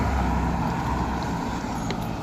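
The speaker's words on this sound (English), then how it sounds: "Freaking traffic everywhere tonight." Steady street traffic on a busy night, a continuous low rumble of passing cars and engines with a faint hiss on top, heard from close by without any talking.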